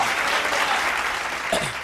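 Audience at a church service clapping steadily in dense, even applause, close and alone without talk.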